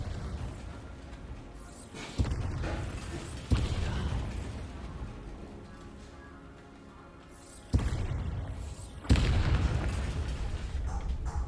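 Bombarda explosion spell cast in the Hogwarts Legacy video game: several sudden loud blasts go off a few seconds apart, each hitting hard and then rumbling over a busy background of game sound.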